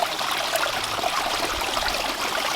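Water runs down a rebuilt garden pond waterfall in a steady, close splashing trickle, an even rushing wash with no pauses.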